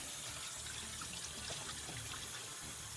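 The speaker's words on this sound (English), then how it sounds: "we're going to rinse off the lid real quick" Tap water runs steadily over the lid of a rock tumbler in a sink during the polish stage. The flow is close, continuous and hissy, with small splashes and no voices.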